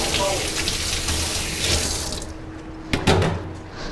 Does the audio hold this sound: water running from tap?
yes